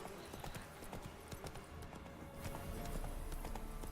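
Horse hooves trot in a steady clip-clop rhythm in The Witcher video game, close and moderately faint, with quiet ambient game sound and no talk.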